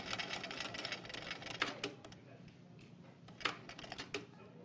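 Sewing machine stitching fabric for a scout neckerchief, running in a steady mechanical whir with brief louder bursts as a few backward stitches lock the seam, heard close and alone.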